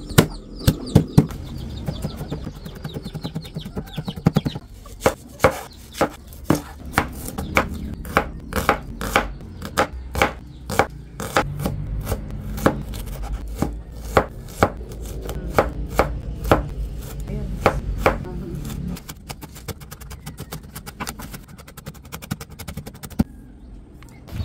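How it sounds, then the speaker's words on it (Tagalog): Onion and garlic being chopped on a board for squash fritters, a long run of sharp knife knocks, sometimes rapid and rhythmic, sometimes spaced, close and crisp. "maghihiwa na rin po si Seth nung sibuyas at bawang."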